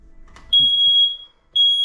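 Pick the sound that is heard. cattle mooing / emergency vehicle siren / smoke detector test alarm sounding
smoke detector test alarm sounding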